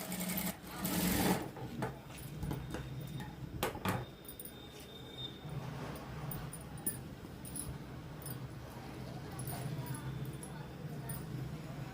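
A sewing machine stitching a straight seam on a blouse, a faint steady whirring hum with small clicks and handling noises, quiet and close throughout.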